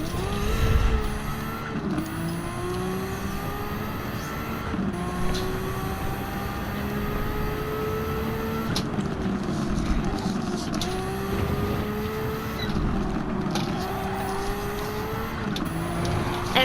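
A race car in a racing video game sweeps through Eau Rouge with a steady engine whine. The pitch rises, then drops sharply at each gear change, repeating several times over a constant background drone.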